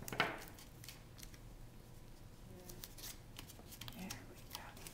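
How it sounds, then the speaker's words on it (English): Masking tape is ripped off the roll and pressed onto a pie pan, giving quiet, crisp crackling tears and small taps in short bursts, heard close up in a hushed room. "I like to use between 3 and 4 pieces of masking tape to make sure that the pencil is attached well to the pie pan."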